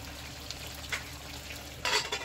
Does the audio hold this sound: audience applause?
no